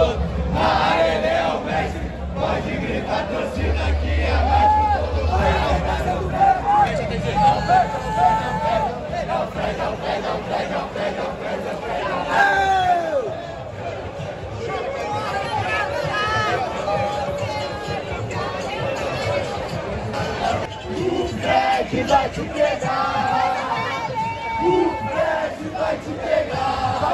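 Fluminense football fans in a packed stadium chant and shout in loud, continuous waves, a dense roaring crowd that swells and surges throughout.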